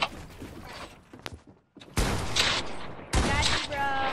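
Bursts of gunfire in the video game Fortnite: scattered shots early, then two loud sustained volleys after a brief pause, with faint voice traces in between.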